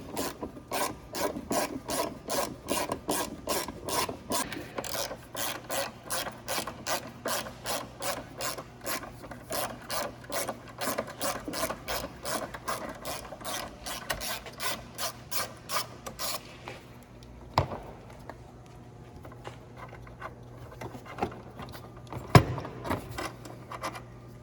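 A ratchet clicks off 10mm bolts holding a tray on a 2009 Toyota Corolla, a fast, regular train of sharp ratcheting clicks for most of the stretch before it slows into scattered metallic handling knocks.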